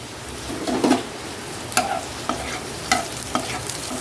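Cumin seeds sizzle in hot oil in a pan for a taro curry, with a steady soft frying hiss broken by several sharp stirring scrapes, close and without talk.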